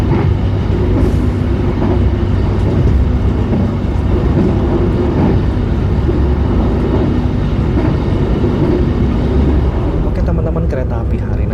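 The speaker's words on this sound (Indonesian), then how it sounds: "Kereta api Harina sudah berangkat dari stasiun Surabaya Pasar Turi" A heavy, steady rumble of the KA Harina passenger train departing Surabaya Pasar Turi station, loud and continuous, with low engine drone and faint rattling throughout.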